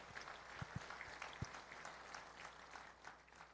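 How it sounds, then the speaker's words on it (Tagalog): A church congregation applauds together, a soft, distant wash of clapping with a few sharper nearby claps standing out. "Malakas na palakpak para sa Panginoon."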